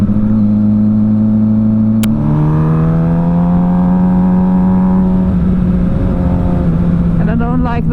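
Loud engine of a custom-built Suzuki GSXR 600 track bike on a wet road, revving up and down in strong harmonic sweeps with a sharp pop near the start and crackling bangs toward the end.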